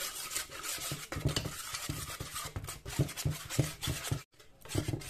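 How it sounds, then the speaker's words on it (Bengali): A spoon stirs chicken kabab batter of cornflour and oil in a bowl, making steady, rhythmic scraping and tapping strokes close by, with a brief pause near the end. "এখন আমি এটাকে ভালো করে নেড়ে ব্যাটারটা বানিয়ে নেব।"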